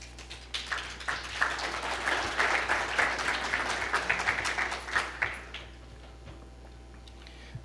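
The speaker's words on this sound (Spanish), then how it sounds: "a quem eu peço uma salva de palmas" A conference audience gives a panelist a round of applause, a steady wash of many hands clapping at moderate volume that swells, holds for several seconds, then tapers off into room quiet.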